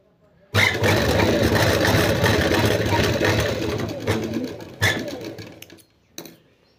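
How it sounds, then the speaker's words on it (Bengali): Sewing machine running a double seam on a frock, a close motor whir that starts abruptly, runs steadily for about four seconds, pauses briefly, then gives a short final burst. "আবার ডবল সেলাইয়ের উপরে দিয়ে নেব"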